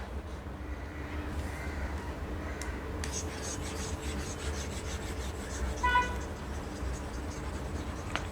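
An eraser rubs back and forth to remove handwritten math working, giving a soft, continuous scratchy rasp at close range with a few light taps.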